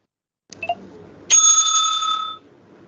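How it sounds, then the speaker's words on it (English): A small handheld bell rung by a debate timekeeper gives a couple of faint taps, then one bright, sustained ring that sounds near and clear for about a second before fading, with no talking. "The bell will be ringing again"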